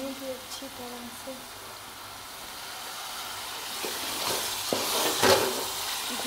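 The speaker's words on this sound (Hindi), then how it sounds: "इस मसाले को भूनेंगे अच्छी तरह से।" Spice masala fries and gets stirred in a pan for masoor dal with karela. A soft sizzle builds steadily, with scraping stirs and clinks of the spoon, while someone talks quietly at the start.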